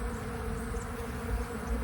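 Bees buzz around in spring sunshine while gathering pollen, a steady dense hum of many insects, close and continuous with no voices.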